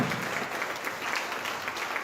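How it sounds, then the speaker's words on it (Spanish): Church congregation gives a brief round of applause during a service, an even wash of clapping from many hands, moderately quiet and continuous for about two seconds. "denle un fuerte aplauso a ese"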